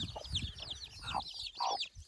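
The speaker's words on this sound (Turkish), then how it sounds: "Bak burada civcivler var. Burada büyüyorlar." Chicks in a village cheep in rapid high chirps, several overlapping, with soft clucking from a hen nearby; fairly quiet and close.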